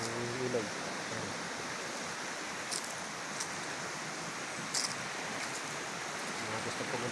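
A river flows in a steady, broad rush of water near an old antipolo tree, with a brief voice at the start and a few faint sounds over the continuous noise.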